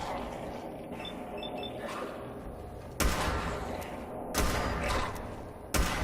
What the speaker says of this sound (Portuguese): Olha o tiro que ele errou.